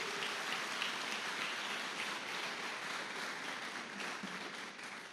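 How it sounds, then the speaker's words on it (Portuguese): A congregation at a church service applauds, a dense, steady wash of many hands clapping that holds evenly throughout with no voices standing out. "Pode aplaudir"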